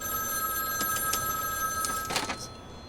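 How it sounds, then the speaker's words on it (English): A telephone bell rings in short repeated bursts, moderately loud and clear, in a movie scene about a phone booth, with no talk over it. "You hear a phone ring and it could be anybody."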